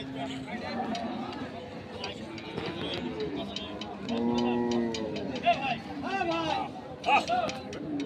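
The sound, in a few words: bullocks (Indian cattle) at a livestock market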